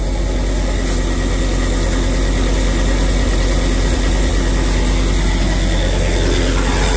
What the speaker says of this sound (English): So this is his auger.